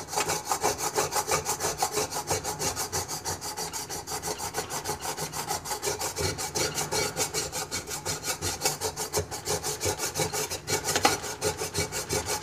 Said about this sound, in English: We're going to get that off with this pumice stone.